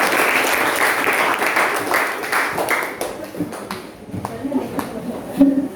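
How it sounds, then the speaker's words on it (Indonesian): Classroom applause for two student groups that have just presented, a dense burst of clapping that fades after about three seconds, leaving scattered claps and voices in the room. "beri tepuk tangan untuk dua kelompok yang paparan"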